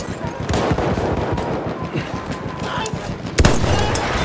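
Dense, continuous automatic gunfire from a Battlefield 1 battle, a steady rattle of rapid shots with a sharper burst near the end, loud and close with no pauses.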